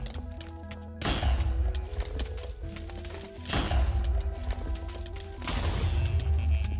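Three heavy bursts of explosions destroy things in a Minecraft battle simulator fight, each crashing in loudly and rumbling on, a couple of seconds apart.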